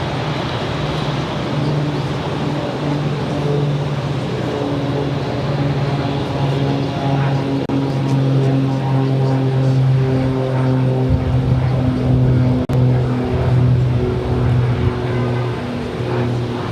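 An ITA Airways Airbus A330-200 arriving from Rome at Boston Logan gives a loud, steady engine drone with strong humming tones that shift slightly in pitch, heard close and continuous throughout.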